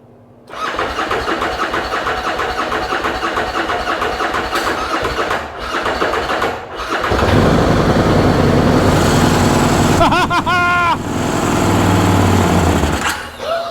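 A 2013 Bennche utility vehicle engine cranks and catches, running briefly, then restarts and holds a loud, steady, close-up idle with some revving.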